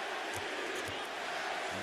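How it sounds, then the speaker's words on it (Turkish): Arena crowd at a basketball game, the Zion Williamson debut, roaring steadily as fans chant MVP during free throws, a dense wash of many voices with brief louder swells. "MVP tezahüratları geliyor."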